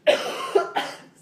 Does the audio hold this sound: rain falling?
no